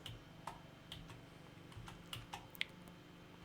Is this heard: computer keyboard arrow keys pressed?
yes